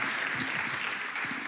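Conference audience applauding after a morning-session speech, dense steady clapping from a full room, loud and continuous throughout with no speech over it.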